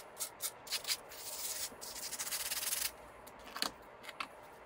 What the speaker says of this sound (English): you can actually shape it with the sandpaper